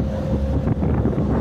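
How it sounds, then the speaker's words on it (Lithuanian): Strong wind buffets the microphone aboard a boat sailing toward Ko Chang island in Thailand, a loud steady rumbling roar with engine and water noise beneath, no speech. "Vau, vėjukas biški pučia."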